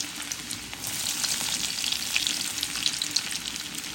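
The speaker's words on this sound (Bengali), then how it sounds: "দিয়ে দিলাম তেল, দিয়ে দিলাম রসুন কুচি," Chopped garlic frying in oil for tomato chutney, a close, steady crackling sizzle with faint stirring throughout.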